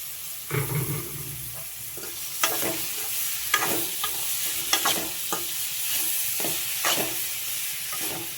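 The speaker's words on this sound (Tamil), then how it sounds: "கேரட்டை போட்டுக்கலாம்." Grated carrots with tomato fry in a hot pan for carrot rice, a steady soft sizzle broken by repeated scraping stir strokes from a spoon, close and alone without talk.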